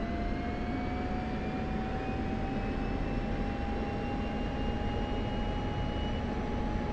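An F-16 jet engine in the DCS flight simulator spools up to 90% power: a loud, steady roar with a rising whine that climbs through the run-up and holds, with no voices.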